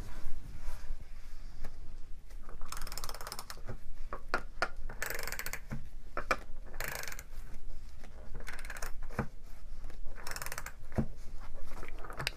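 A 70-plus-year-old ratchet from a vintage Rahsol toolkit, used as an 8mm hex drive, clicks in quick bursts of close, dry metallic ticks. The bursts come in uneven groups with short pauses between strokes, and no one talks.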